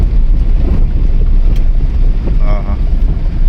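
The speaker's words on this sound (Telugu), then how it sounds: "చల్ల గాలి వస్తుంది" Strong cold wind buffets the microphone in a constant low rumble, with faint background sounds and a brief tonal whine.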